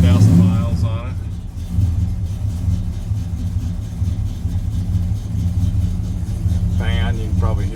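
A 1971 Chevrolet C10 pickup with a brand-new engine fires up and settles into a steady, rumbling idle that carries on throughout, with brief voices at the start and near the end.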